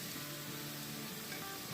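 Masala fries in a pan for a mutton curry, producing a dense, continuous close-up sizzle with a hissing, rain-like texture and no talk.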